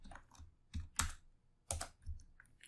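Keys on a computer keyboard clacking in uneven bursts, a few distinct taps and short clusters with pauses between, close and fairly quiet, no talking.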